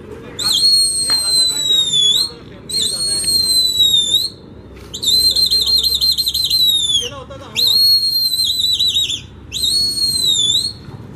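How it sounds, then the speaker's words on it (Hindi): Loud, shrill whistles call pigeons back over rooftops, sounding in five repeated bursts of about two seconds each with short gaps, each one warbling and wavering in pitch, over faint background noise. "बुला रहे हैं दोस्तों कबूतरों को।"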